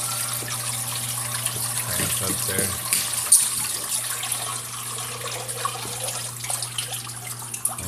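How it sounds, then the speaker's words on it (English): Water from a backyard pond waterfall splashes and rushes in a steady hiss, close and continuous, with a low hum underneath and someone speaking briefly over it. "Gotta shut the waterfall off."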